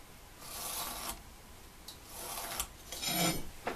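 Pencil or marker scraping across timber while laying out lines on a wooden knee brace for a timber frame, in three short rasping strokes of moderate loudness with no talking.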